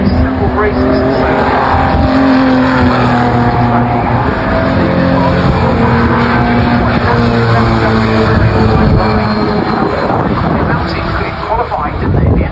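Several race cars roar through Graham Hill Bend at Brands Hatch in an Equipe race, engines layered and droning loudly for the whole stretch, pitches shifting as they pass nearby, while a commentator talks over them.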